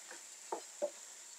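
Tomatoes stirred into tomato paste in a hot pan for a zucchini sauté: two short scraping stirs close by over a faint steady sizzle, with no talking.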